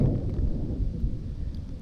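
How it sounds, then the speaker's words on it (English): Thunder rumbles low and continuous from a storm approaching a campsite, a deep rolling drone that holds steady, moderately loud and alone. "And it's non-stop thunder."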